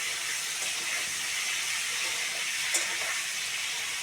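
Ridge gourd, potato and stalks fry in oil with five-spice, giving a soft, continuous hiss with a faint clink near the end, heard at low level with no talk.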